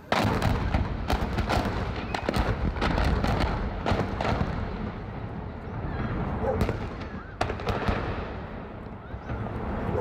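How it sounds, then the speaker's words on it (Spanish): Explosive devices detonated in Tunja give sharp bangs and thuds, a dense, irregular burst of blasts that echo loudly outdoors and thin out toward the end. "se hace pues la detonación de los explosivos que estaban ahí"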